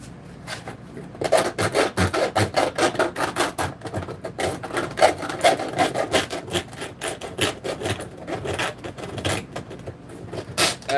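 Plastic chunks being scraped off a tabletop miniature model, heard as a steady, fast run of harsh rasping strokes close by with no talk.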